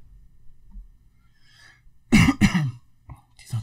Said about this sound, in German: Dieser doofe Husten.